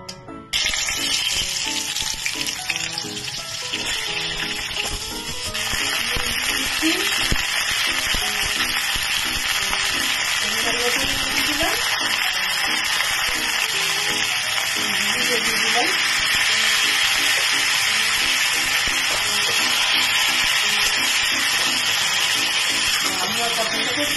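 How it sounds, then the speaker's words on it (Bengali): Loud, continuous sizzling of potato and pointed gourd frying in hot oil, a dense crackling hiss that thickens after a few seconds with occasional stirring clatter. "তেলটা গরম হয়ে গেলে আমি আলু আর পটলটা ভেজে নেবো ভালো করে"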